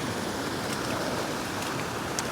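Creek water runs through overgrown woods strewn with fallen trees, a steady rushing flow heard close and continuous with no voices.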